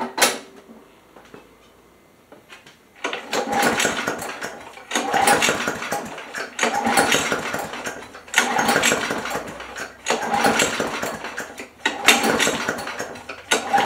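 A small two-stroke weed eater engine, a yard sale find under repair, runs in repeated loud bursts of revving after a quiet start, spitting oil out of its muffler with a rough, buzzing rattle.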